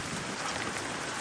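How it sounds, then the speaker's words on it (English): Rain falls steadily, a dense, even hiss of drops hitting surfaces that fills the whole brief moment at moderate loudness. "look at that rain"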